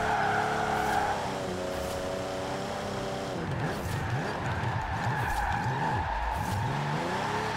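A Toyota 2000GT in Forza Horizon 4 drives with its engine and exhaust droning steadily, then the revs sweep up and down repeatedly in wavering surges under continuous loud road noise and tire squeal.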